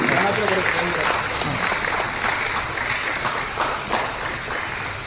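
An audience at the Karnataka Sadhaka Ratna award ceremony gives loud, sustained applause that fades slightly toward the end, with voices heard beneath the clapping.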